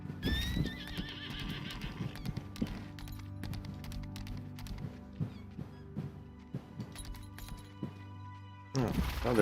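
A horse whinnies loudly at the start in the video game Lost Ark, then hooves clip-clop at an uneven pace with occasional clatters, closing with a sharp crash.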